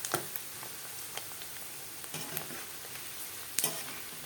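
Garlic with its skin on fries in a little oil, giving a soft, steady sizzle with scattered faint pops and ticks throughout, no voices.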